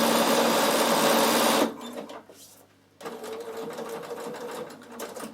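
Bernina sewing machine stitching a jacket seam along the straight grain, running fast and loud with an even whir, briefly stopping, then starting again at a steadier, slightly quieter pace.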